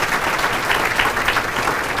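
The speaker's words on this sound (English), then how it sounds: "So let's give Chesterfield County a round of applause for that" An audience at a Chesterfield County and Virginia State University business breakfast applauds steadily and fairly loudly, a dense even clatter of many hands lasting the whole stretch.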